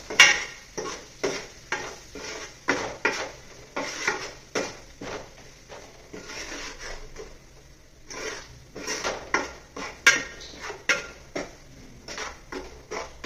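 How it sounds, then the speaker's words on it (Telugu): Spices including cumin powder fry in a pan for a fish curry while a spoon stirs and scrapes the metal in a steady, repeated rhythm, close and clear, over a faint sizzle. No one speaks. "ఈ మసాలాలంతా కూడా కొంచెం వేగాలి."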